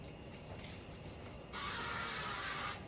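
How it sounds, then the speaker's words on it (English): A few short hissing bursts of avocado oil cooking spray, followed by one longer continuous spray, close and fairly soft. "I am going to put a little bit of avocado spray on it"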